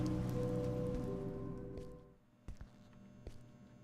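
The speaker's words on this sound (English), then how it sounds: "I do like the sound of the rain and the wind chimes right here." Steady rain falls with wind chimes in the horror game Greenhouse, a soft continuous patter that fades partway through, followed by a few faint scattered taps.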